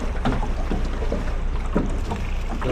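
A boat moves on the Atlantic at Ponta da Piedade, with a steady low rumble, water wash and buffeting wind noise on the microphone continuing evenly throughout.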